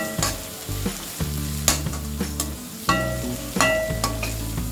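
Long-slit capsicum frying over a medium flame for chilli paneer, a loud close sizzle with intermittent stirring clacks and scrapes, no talking.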